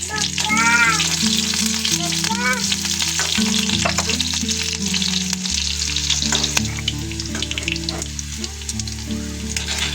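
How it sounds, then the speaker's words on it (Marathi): Green chilies and curry leaves fry in hot oil with a steady, loud sizzle that crackles and spits continuously, joined by occasional stirring scrapes. "इथे आपण एक ते दोन हिरवी मिरची घेतलेली होती तेही छान असं तेलामध्ये फ्राय करायचं"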